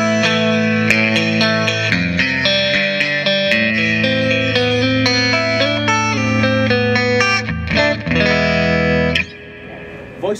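Electric guitar played through a Line 6 amp on a clean channel with added reverb at a trade-show booth, ringing chords and picked notes with a lush wet tail, ending in a brief decay.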